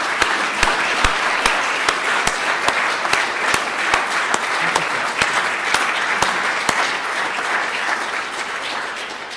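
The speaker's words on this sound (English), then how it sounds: "just one more really big round of applause for what I thought was an outstanding lecture" Audience applause after a lecture on coral reefs, dense steady clapping from a hall crowd that continues for the whole stretch and tapers slightly at the end.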